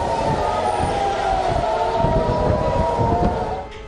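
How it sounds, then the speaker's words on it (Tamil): Civil defense air raid sirens in Tel Aviv and Jerusalem during an Iranian attack wail loudly and continuously, steady in pitch, over low background rumble and faint crowd noise. "டெல் அவிவ், ஜெருசலேம் ஆகிய இடங்களில் நேற்று பகல் பொழுதிலேயே சைரன்கள் ஒலித்தபடி இருந்தன"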